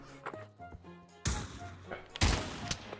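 Gunfire in the Pavlov VR shooter, a few sharp loud bursts breaking out after quieter clicks and thuds, close and abrupt, with faint voices around.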